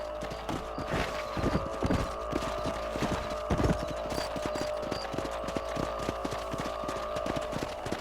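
Steady clip-clop of horse hooves on a ranch in Red Dead Redemption, a quick even rhythm running the whole time at moderate loudness over a low ambient bed.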